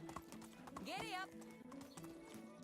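A horse in the Medieval Dynasty video game clip-clops along in a steady rhythm of hooves and gives a brief whinny midway, all fairly quiet, with someone talking over it.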